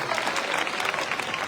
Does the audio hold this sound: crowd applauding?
yes